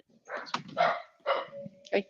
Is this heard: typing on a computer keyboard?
no